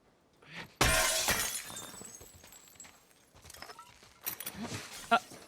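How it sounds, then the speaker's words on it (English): A window shattering in the game The Last of Us Part II: a loud, sudden crash of breaking glass, then scattered tinkling debris and quieter in-game movement, with people talking faintly over it. "this door's not going to open, so we're going to have to break the window"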